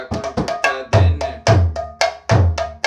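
A mridanga played in a rela pattern ending in a long tehai, a variation for slow kirtan. Crisp, close strokes come in a steady rhythm, with deep resonant bass strokes recurring among sharper treble hits.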